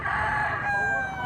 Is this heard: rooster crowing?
yes